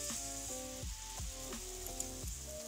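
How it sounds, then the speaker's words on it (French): Salmon marinade with sugar simmering and deglazing in a hot pan, a soft, even sizzle with regular scraping stirs through it, fairly quiet and without talk. "je vais mettre la marinade à déglacer gentiment"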